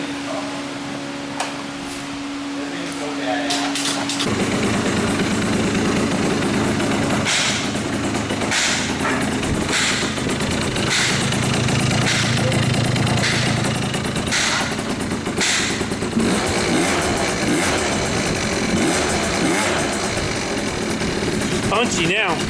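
A Yamaha Jog scooter fitted with a 70cc Polini big bore kit idles and revs close by, with repeated sharp throttle blips over a steady buzzing engine note as people talk.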